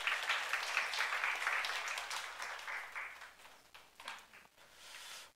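Congregation applause during a youth worship service in a church, a broad, steady wash of clapping that thins and fades toward the end, with scattered louder claps near the close.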